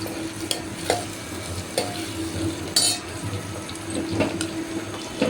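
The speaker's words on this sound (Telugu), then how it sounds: "కొంచెం జీలకర్ర, ఆవాలు వేసి ఉల్లిగడ్డ, పచ్చిమిర్చి వేసిన తర్వాత ఇవి కొంచెం గోలనివ్వాలండి" Cumin, mustard seeds, chopped onion and green chilli fry in oil in a pan, giving a steady close sizzle broken by scraping stirs and small clinks, with no one speaking.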